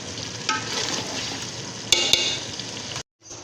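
Qeema aloo sizzles loudly in hot oil as a spoon stirs and scrapes through it, the frying hiss steady with a couple of sharp clinks against the pan before a brief cut.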